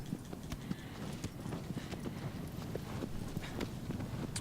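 Horse hooves clip-clop in steady rhythm across the ground in the video game Shadow of the Colossus, a brisk, even gait of close, distinct hoofbeats with no talking.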